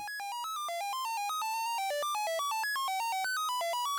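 Synthesizer oscillator driven by a sample-and-hold module, its pitch hopping to random notes in quick clocked steps, a bright buzzy tone jumping up and down at an even pace, steady and unbroken throughout.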